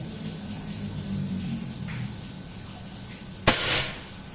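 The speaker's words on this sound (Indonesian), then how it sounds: "ketiga batu bata yang sebelah kanan" Mini bullpup air rifle with a 30 cm stainless OD32 seamless barrel at 2700 psi fires once at a brick, a single sharp loud crack near the end against a steady outdoor hiss.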